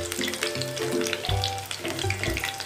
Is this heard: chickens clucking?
no